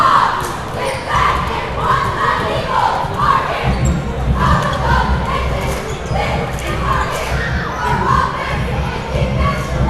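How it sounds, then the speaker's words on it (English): Cheerleaders shout a rhythmic welcome cheer at a high school basketball game, loud chanted bursts over a noisy gym crowd, with shuffling and a bouncing ball mixed in. "Let's check out the cheerleaders as they say their welcome cheer."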